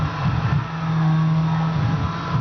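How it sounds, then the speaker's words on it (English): A deep, low car engine note in the racing game Midnight Club LA, a loud, steady hum that sustains evenly for a couple of seconds without talk. "You're just gonna hear the really low engine sound in this one."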